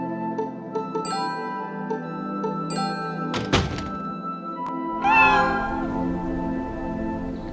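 Kittens being fed outside a back door in the video game Root Letter let out short meows, mixed with soft thunks and a few tinkling game sounds, then a rising cry near the end.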